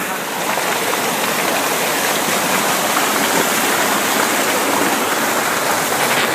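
Stream water rushing through the pipes of a weir under construction, a loud, continuous broadband gush heard up close with no pauses.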